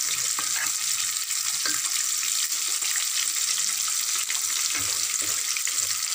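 Shrimp sauté in a pan with a steady, even sizzle and some faint scraping and knocks of stirring underneath, without any talking.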